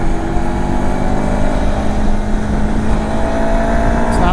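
Mutt Motorcycles Stravaig 400 motorcycle cruising along country lanes at about 40 mph, a steady close engine drone mixed with heavy wind rumble, held at an even level throughout.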